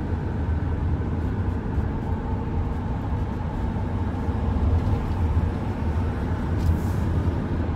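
GMC Savana van driving and accelerating, a steady low engine and road rumble that holds at a constant level throughout, near and continuous with no talk.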